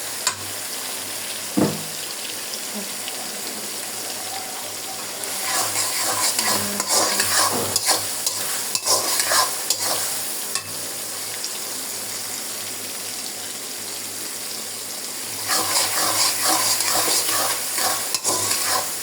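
Chicken being stirred and fried in a pan with cardamom, cinnamon and bay leaves, a continuous oily sizzle with scraping spoon strokes that swell louder in bursts near the middle and end, with no voices.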